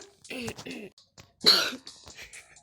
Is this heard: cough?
yes